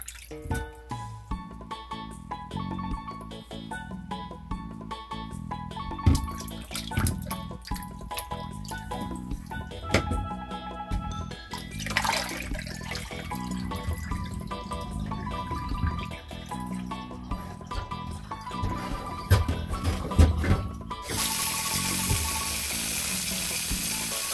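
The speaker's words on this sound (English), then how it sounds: "You rub it up and wash it clean." Oxtail being rinsed and rubbed clean under running water for a peas stew, with steady trickling and dripping, splashes and handling noises close by, and a louder gush of flowing water near the end.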